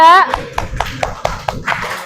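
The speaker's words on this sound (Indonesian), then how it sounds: "boleh tepuk tangan dulu buat kelompok 3" A classroom claps for a student group in a guidance lesson: evenly spaced, rhythmic hand claps, about eight in a row, following a brief spoken phrase.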